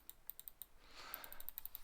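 Rapid mouse clicks skipping through Dragonfable game dialogue, a run of short, close, crisp taps that briefly blur into a denser burst midway before resuming as separate clicks.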